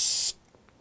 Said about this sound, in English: So you can actually spray this and it'll get into all of the cracks,